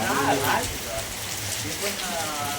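Steady rain falls outdoors in a village on a rainy morning, a constant close hiss and patter, while people talk over it near the start and again later.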